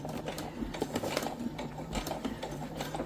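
A sewing machine stitches synthetic leather at its slowest speed with a 1 cm seam allowance, giving a soft, close, rhythmic mechanical clatter of needle strokes that runs for about three seconds with no voices.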